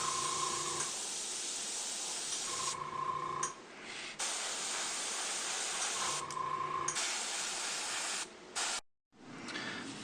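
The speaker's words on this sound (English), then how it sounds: "now that the airbrushing is done" An airbrush hisses in bursts while spraying highlights onto a 1/60 scale Gouf model kit, a steady close spray broken by short pauses and a faint tonal whistle during some passes.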